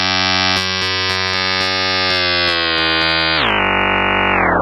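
An AE Modular Rains synthesizer module plays one loud, sustained buzzy tone full of harmonics, with rhythmic clicks running through it. The pitch steps down twice as the note holds, and nothing else plays alongside it.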